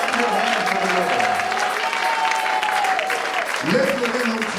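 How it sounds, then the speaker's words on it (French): A church congregation claps during a prayer and fasting service, steady massed clapping under a sustained voice, with a dip partway through before the crowd swells again. "Will you clap your hands for the Lord?"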